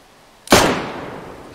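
A single loud gunshot in the survival video game DayZ, set on the Namalsk map, cracks out sharply and fades into a long echoing tail, with no talk.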